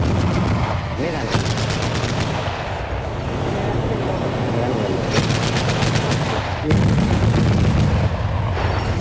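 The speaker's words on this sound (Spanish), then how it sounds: "Ahora que se está moviendo, se está preparando para tirar, para disparar." Artillery cannon firing at a military demonstration, loud booming blasts in bursts with sharp repeated cracks and a constant rumbling background, heavy and close, no voices.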